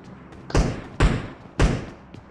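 Bombs from a bombing zone in the video game PUBG Mobile land as three heavy, booming thuds, evenly spaced about half a second apart, each trailing off in a rumbling decay.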